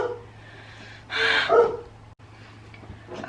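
Dogs give a short burst of barking around the middle, fairly close and moderately loud over a quiet indoor background with a steady low hum.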